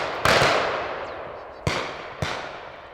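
Three shotgun blasts ring out at a pheasant and woodcock shoot in Denmark: one sharp crack, then two more about a second apart, each fading into an open-air echo, moderately distant with no talk.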